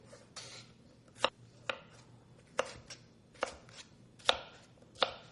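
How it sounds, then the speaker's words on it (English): A knife chops vegetables into small pieces about half an inch thick on a cutting board, with sharp, distinct strikes at an irregular pace, close and clear over a quiet background. "I'm just going to cut these into small pieces."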